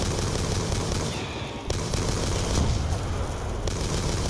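Rapid FAL rifle fire in a zombies video game, dense repeated shots forming a continuous loud burst of gunfire with a brief dip partway through.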